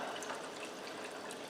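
Chicken broth poured from a container into a skillet, a continuous soft splashing and trickling stream heard up close, with no talk.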